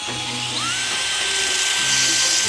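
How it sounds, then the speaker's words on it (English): A power tool grinds off a spinning custom-made bolt on a Mitsubishi FTO GPX, giving a loud, high whining screech whose pitch rises and then holds steady over continuous harsh noise. "I'm gonna let this spin and then you're gonna grind it off."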